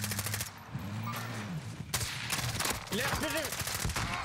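Gunfire in the Warzone video game, rapid bursts of shots crackling at moderate distance under ongoing game noise, while players talk over it.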